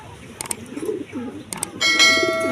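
Racing pigeons returning to the loft after a 109 km training toss from Guimba give soft, low cooing calls with a few sharp clatters, followed by a brighter, sustained ringing tone near the end.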